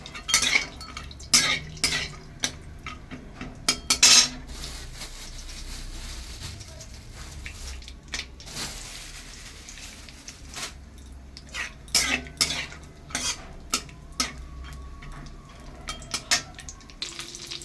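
Cashews fry in oil in a pan for homemade pulao, a low steady sizzle broken by irregular sharp clinks and scrapes of a spoon stirring against the metal, with a cough now and then.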